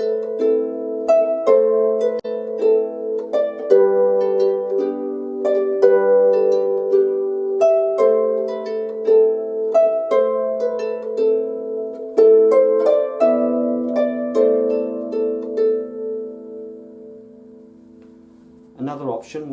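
Brian Boru's March is played as a melody with chord accompaniment on a plucked, harp-like instrument, moving at a steady march pace with sustained low chords under the tune for about twenty seconds.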